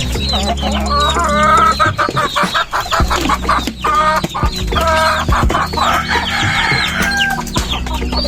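Several chickens cluck and squawk close by, a rooster crowing among them, with continuous overlapping calls throughout.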